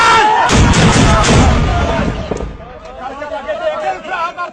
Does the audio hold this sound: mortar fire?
yes